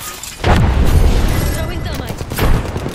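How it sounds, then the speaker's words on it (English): A frag grenade goes off in Apex Legends as a loud, close rumbling boom that swells, fades, then surges again with a second blast near the end, while a voice speaks over it. "Tossing the frag. Frag out."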